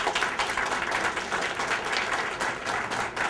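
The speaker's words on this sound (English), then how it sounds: "Catherine Werner, deserves a huge round of applause and thanks" An audience applauds to honor a city sustainability director, a dense, steady wash of many hands clapping close and fairly loud, with no voice above it for the whole stretch.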